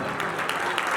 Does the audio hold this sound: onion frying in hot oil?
no